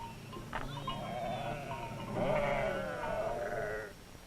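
Navajo sheep bleat on dry grazing land, several overlapping calls rising and falling over a steady outdoor background, moderately loud and close, with no talking.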